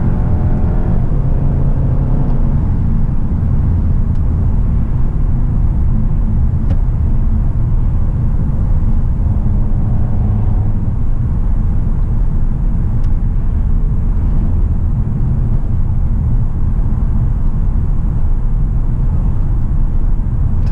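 A 2019 VW Arteon R-Line runs at full throttle, its engine giving a loud, steady droning roar mixed with heavy road and cabin rumble, unbroken for the whole stretch.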